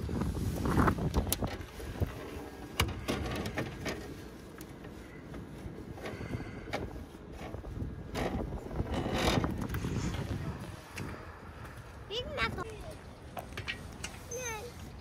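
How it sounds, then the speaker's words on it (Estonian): Cold wind blows outdoors, buffeting the microphone in a continuous rumbling gust under people talking, with some mechanical clicks. "tuul lendab näkku või?"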